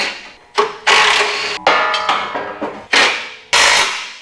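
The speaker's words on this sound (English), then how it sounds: "then we can bolt this bumper on that I got put together" A pre-made bumper being bolted onto a Jeep: a run of sharp, close metallic clanks and ratcheting knocks at irregular intervals, each ringing briefly before the next hit, with no talking.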